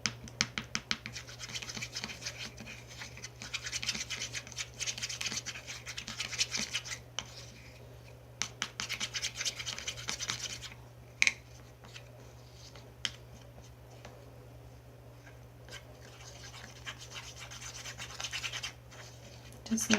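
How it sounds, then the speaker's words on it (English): Pure white makeup pigment is crushed and scraped for a homemade highlighter, producing scattered dry scratching and grinding strokes in short bursts, close and fairly quiet, with a low steady hum underneath. "Okay, now I'm just going to crush that."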